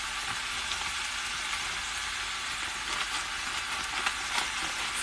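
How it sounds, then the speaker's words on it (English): BBQ chicken fajitas with peppers and onions sizzle steadily in a pan, a dense continuous hiss with occasional faint scraping, close and fairly quiet with no talking. "So now we've added the peppers and the onions, it's going to take at least another 10 minutes."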